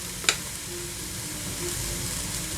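Aubergine pieces frying in hot oil, a steady close crackling sizzle throughout, with one brief sharp tap near the start.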